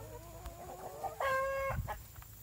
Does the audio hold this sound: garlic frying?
no